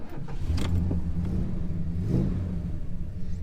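A car pulls away on a drive, its mid-range engine rumbling steadily up close, with a couple of brief revs and clunks in the first few seconds.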